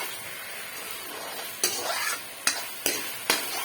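Spices frying in oil in a pan, a soft steady sizzle broken by four sharp scraping stirs of a utensil against the pan in the second half, close and fairly quiet.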